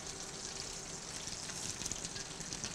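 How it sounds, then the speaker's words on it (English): Dense, continuous crackling sizzle of ground coriander frying in hot ghee, close and steady with no pauses. "Nice sizzle."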